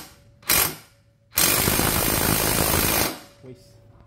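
A cordless brushless impact wrench fires a short hammering burst, then a longer sustained rattling run of about two seconds, loud and close, with brief quiet gaps between triggers.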